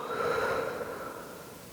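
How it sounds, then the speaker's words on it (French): Slow, steady breathing during a relaxing yoga pose for period pain, in through the nose and out through the mouth; a single soft, close breath with an airy hiss that fades gently toward the end. "concentre-toi sur l'air qui rentre dans tes narines à l'inspiration et de l'air qui sort de ta bouche à l'expiration"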